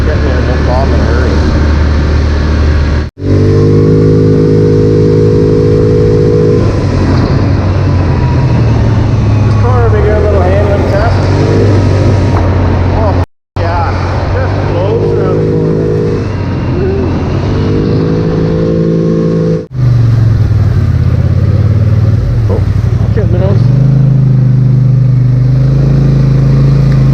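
A Polaris Sportsman 850XP ATV fitted with ITP Cryptid tires accelerates uphill, its engine droning loud and close and climbing in pitch through repeated revving surges, with a few brief dropouts and a voice talking over it.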